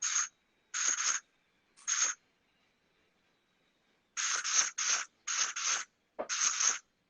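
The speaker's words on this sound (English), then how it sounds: "I'm gonna take my working spray" Short hissing bursts of an aerosol hair spray, a few spaced sprays followed by a quicker run of several close together, near and fairly loud.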